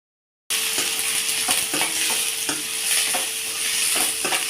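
Curry leaves frying with onion and green chillies in a pan, a bright steady sizzle broken by regular scraping stir strokes about every half second, close and loud with no talk.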